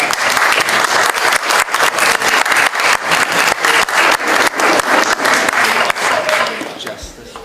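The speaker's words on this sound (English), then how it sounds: "A round of applause." An audience at a candidate meet-and-greet event breaks into sustained applause, dense steady clapping from a crowd close by, tapering off toward the end.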